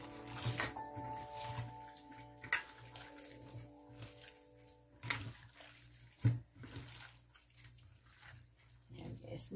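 Hands being washed under a running kitchen tap, a soft steady stream of water with splashes and a few brief knocks, fairly quiet and close.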